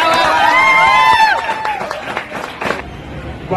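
Clapping and crowd noise from an audience at a Diwali celebration, heard under a whistle-like tonal sound and mixed voices, tapering off toward the end.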